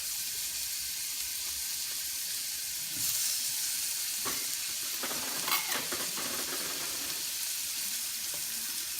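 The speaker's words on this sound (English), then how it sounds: "Now let's add our butter." Butter hits a hot frying pan of tofu being cooked for spicy teriyaki, raising a steady bright sizzle with crackles that grows a little louder as it melts, along with occasional stirring scrapes.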